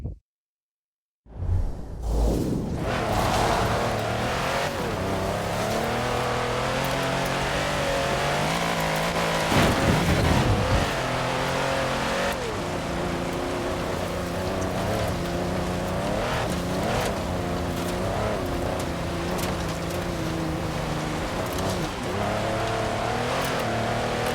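A Mercedes G65 AMG climbs an off-road hill in the racing game Forza Horizon 4, its engine droning loudly and continuously with shifting revs and a brief surge around the middle, with no talk.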